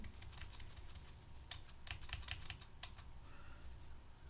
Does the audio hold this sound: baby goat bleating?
no